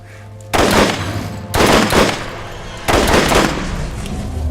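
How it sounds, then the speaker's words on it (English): Three long bursts of automatic fire from a full-auto sniper rifle in Borderlands, each a loud, sharp onset followed by a rattling stream of shots, with brief pauses between bursts. "I want to show off the full auto-ness of the full auto sniper rifle."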